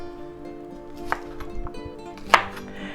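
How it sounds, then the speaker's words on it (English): A knife chops green onions into 2-inch sections on a cutting board, giving two sharp, separate chops about a second apart over a low background hum. "we're going to go ahead and cut them up in 2-inch sections"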